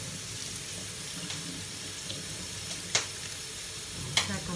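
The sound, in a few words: rinsing couscous semolina under running tap water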